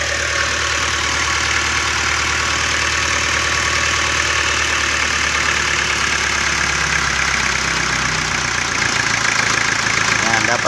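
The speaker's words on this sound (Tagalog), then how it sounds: "Sobrang taas ng minor. So babaan natin." A car engine idles after a jump start, a loud continuous hum whose pitch drops near the end as the idle speed is lowered, with voices talking over it.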